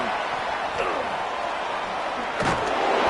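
Tackle in a College Football 27 video game featuring USC, a dull thud of a player knocked off his feet partway through, set against a steady roar of stadium crowd noise.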